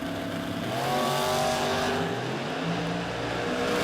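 A Ford Mustang drag car launches off the line at a drag strip, its engine roaring loudly and climbing in pitch under a sustained blare of exhaust and surrounding track noise.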